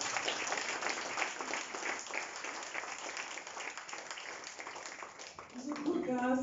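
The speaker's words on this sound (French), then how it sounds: "On peut applaudir s'il vous plaît." Audience applause at a startup pitch night, steady dense clapping filling the whole stretch, with a few tonal sounds rising near the end.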